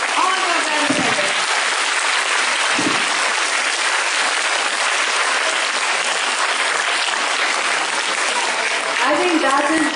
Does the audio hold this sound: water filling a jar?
no